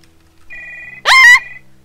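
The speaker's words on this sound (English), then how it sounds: "Behind the door, a phone starts to ring." A telephone rings behind a door in the horror video game Stories Untold, one clear electronic ring tone, loud and close, followed by a sharper burst of sound, with no talk.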